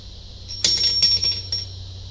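During a Mercruiser marine engine teardown, a loose bolt drops and strikes metal: a sharp bright clink, then a few quick rattling bounces, close and fairly loud against a quiet workshop hum.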